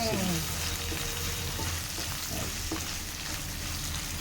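Onions and other ingredients fry in a pan for puffed rice upma, giving a steady, close sizzle that runs without a break from start to finish.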